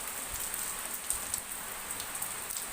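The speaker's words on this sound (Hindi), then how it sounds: "ओह, बारिश का तो मज़ा ही कुछ है।" Rain falls steadily on a rainy day, a continuous soft patter of drops on surfaces with occasional sharper splashes, fairly faint and even throughout, with no voices.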